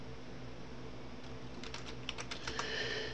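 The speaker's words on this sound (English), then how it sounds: "in order to get out of it, you press the right control key." Several crisp key clicks on a computer keyboard, including the right control key pressed to release VirtualBox's capture of keyboard and mouse, tapping close by over a steady low hum in the second half.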